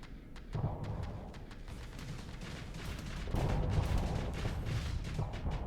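Continuous rumbling blasts and rapid crackling bursts overlap in a dense barrage of game explosions, swelling louder partway through.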